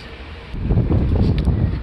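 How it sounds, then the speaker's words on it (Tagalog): Strong wind at Beomeosa Temple in Busan buffets the microphone in a low, rumbling roar that swells after a quieter start. "Ang sarap ng hangin. Ang lakas, pero hindi siya malamig."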